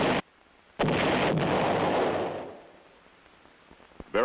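A US heavy artillery gun fires one loud, deep blast that rolls out and decays over a couple of seconds, with a brief sharp pop near the end.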